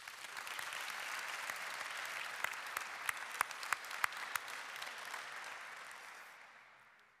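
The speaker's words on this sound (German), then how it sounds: "Applaus bitte." At a 2020 graduation ceremony, a hall audience applauds a graduate who works as a pastor. The clapping is dense and steady, a few sharp claps stand out in the middle, and the applause fades away at the end.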